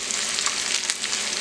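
Callaloo greens sautéing in a pan with bell pepper and habanero: a steady, bright sizzle and crackle of frying with no pauses, close and fairly loud.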